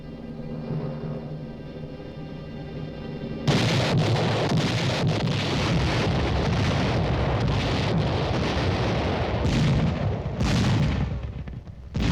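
A low droning hum gives way to heavy, rumbling booms and blasts of giant railway-mounted cannon fire, repeated irregularly over a continuous roar.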